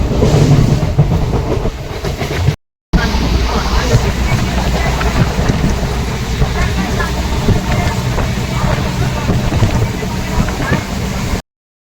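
A train rolls along its rails on a trip toward Nabadwip, giving a steady, loud rumble with faint rhythmic clatter. The rumble drops out for a moment and then carries on unbroken for about nine more seconds.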